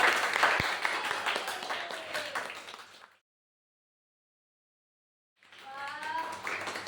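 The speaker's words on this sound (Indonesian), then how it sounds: "Tepuk tangannya." A podcast audience gives a burst of dense clapping and applause to welcome guests, lively at first and then fading, followed by a silent gap, with more clapping and voices returning afterward.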